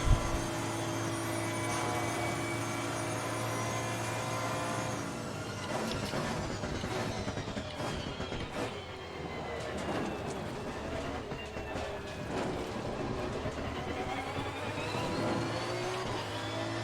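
Race car engine in the racing game Assetto Corsa Competizione at Spa, a loud continuous droning whine that rises and falls through gear changes and acceleration across the lap.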